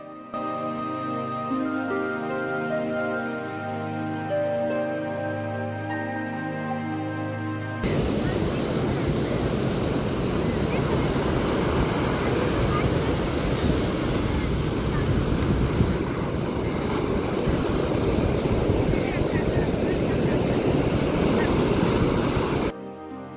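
Rough sea surf at Varkala cliff beach roars as a continuous, loud wash of breaking waves mixed with wind buffeting the microphone, following an earlier stretch of music.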